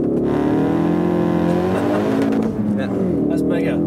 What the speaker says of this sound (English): floor the throttle and drop the clutch, and off you go